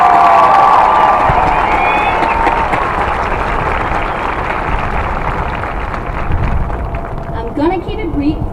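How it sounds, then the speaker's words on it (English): A Class of 2021 graduation crowd erupting in applause and cheering, loud dense clapping with whoops and shouts, including high whistles and children's voices, gradually easing but still lively toward the end. "So let's give them a round of applause."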